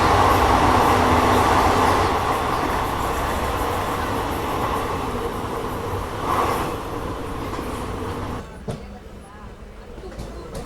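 A Yeshwantpur–Hassan intercity train rumbles through a tunnel before Kunigal with a loud, enclosed roar while a person talks over it; the noise thins out abruptly near the end.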